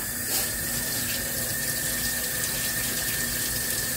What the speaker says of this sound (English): So wash my hands again